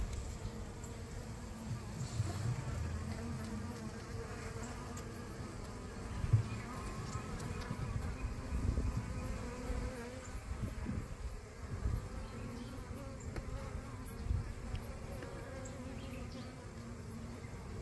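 Honey bees in a struggling backyard hive hum in a dense, steady drone, close and constant throughout with no voices.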